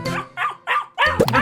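Cartoon dog in a 3D animated children's show barks in four sharp, close bursts, the last two run together into a loud, strained yelp with no voices around it.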